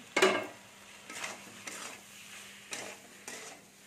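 Fried potato and cauliflower pieces go into a spice paste and are stirred in a pot for an egg and cauliflower curry, making faint soft sizzling with several separate scraping stir strokes.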